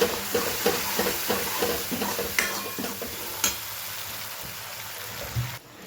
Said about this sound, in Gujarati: મસાલો બળી ના જાય એટલે થોડી દાળ એડ નાખીને અંદર મિક્સ કરતા દઈએ